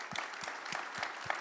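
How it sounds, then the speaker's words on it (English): Audience at a seed sector conference session applauds its five panelists, a faint, steady patter of clapping with a rhythmic low thump recurring beneath it. "So I would like to give a warm round of applause to our 5 panelists."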